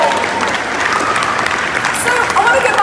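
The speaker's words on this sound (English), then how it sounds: "Round of applause for that" Applause from an audience at a talk show honoring a talented voice actor, steady dense clapping filling the whole stretch at close range, with faint voices mixed in.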